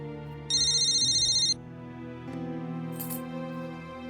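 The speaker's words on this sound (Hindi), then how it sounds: "और लैंडलाइन पर कौन फोन आ गया?" A single electronic landline telephone ring lasts about a second, then stops, leaving a steady background hum with a faint clink afterward.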